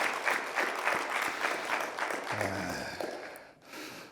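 A room full of people at a church assembly clapping for missionaries, the applause strong at first and then thinning out, with a brief pause before a last patter of claps.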